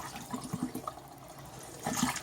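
Water gurgles and rushes as a sink drains after the plug is pulled from hot wool-scouring water, a fairly quiet liquid swirl that swells louder near the end.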